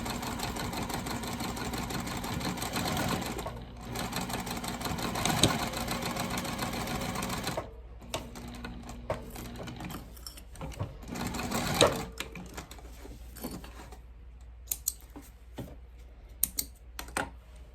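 A sewing machine stitching across the top edge of a leather bifold wallet, running in a fast steady mechanical chatter for several seconds, then giving way to shorter bursts and clicks as it stops and restarts.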